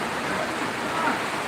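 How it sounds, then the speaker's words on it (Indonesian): Heavy rain pours down in a dense, steady wash of noise during a flood at Mandeh on the south coast, continuous and fairly loud with no pauses. "Ya, hujannya makin deras, bisa di sana lihat, bisa dengar."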